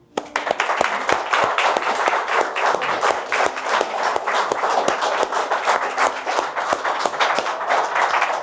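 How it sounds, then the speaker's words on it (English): A live crowd bursts into sustained, dense applause welcoming racing driver David Brabham, steady and loud for several seconds with no voices over it. "Please put your hands together for David Brabham."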